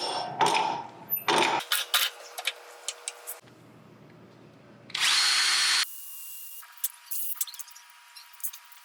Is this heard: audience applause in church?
no